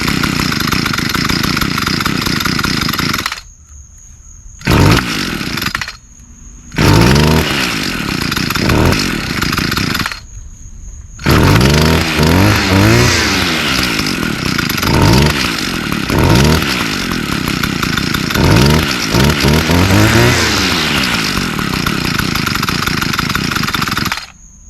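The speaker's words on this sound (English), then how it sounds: "We're going to be working on this Echo SRM 230 string trimmer. It has a run issue" An Echo SRM 230 string trimmer with a run problem, running rich and fouled with wet carbon, roars loudly and unevenly. Its engine cuts out abruptly several times, then revs back up with rising and falling surges.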